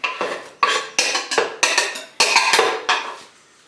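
Crushed cooking ingredients drop into a metal pan in about eight sharp, close clinks and clatters, each fading quickly, in an uneven rhythm.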